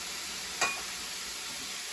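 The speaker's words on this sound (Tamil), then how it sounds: "வெங்காயத்தை நீங்கள் போடலாம்." Chicken liver frying in oil in a pan, a steady broadband sizzle with one brief sharper burst as onions go in, no voices.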